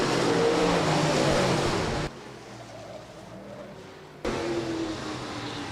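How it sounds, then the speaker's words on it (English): USRA stock cars race at Rapid Speedway, a loud, roaring rush of engines and tires that drops away for about two seconds and then returns at full strength, with no voices in the moment. "Precision Auto Body USRA stock cars, checkers coming out this time around"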